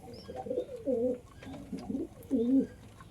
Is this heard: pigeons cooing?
yes